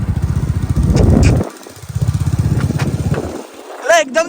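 Royal Enfield motorcycle engine thumping close by in uneven bursts of loud low pulsing, dropping out briefly between revs, with a short vocal sound near the end.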